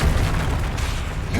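A loud, booming spell explosion from the Hogwarts Legacy game, with a dense low rumble filling the whole short moment and a brief rising whoosh near the end.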